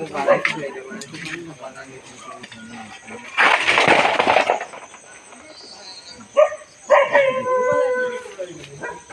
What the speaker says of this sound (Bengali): কুকুরটা কেউ কেউ করছে